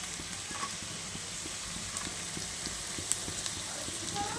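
Chopped chilli and garlic go into a pan of lightly fried onions, producing a steady, even hiss of frying with faint, irregular ticking from stirring.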